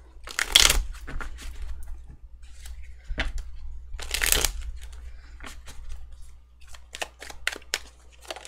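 Tarot cards being shuffled in bursts of soft riffling and sliding, with quiet pauses between handfuls and a couple of louder flurries, close and intimate with no talking.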